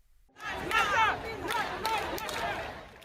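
Large crowd of thousands at a Black Lives Matter protest in London's Hyde Park, a loud swell of shouting and chanting voices rising after a brief quiet start and holding steady.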